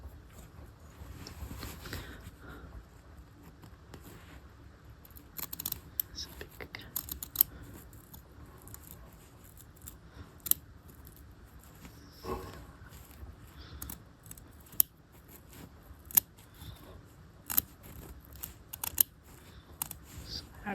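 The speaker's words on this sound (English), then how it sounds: "grab some scissors here and show you the trimming" Sharp scissor snips trimming fabric and threads on a half-scale tailored jacket with a canvas-stitched lapel, scattered irregular cuts up close over soft rustling, with a faint low voice in places.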